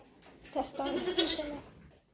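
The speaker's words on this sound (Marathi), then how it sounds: "हे पहा या शेळीला पिल्लू झालेलं आहे काल हे पहा किती छान आहे" A single thin, wavering bleat from a newborn goat kid, close by and fairly soft, rising and falling over about a second.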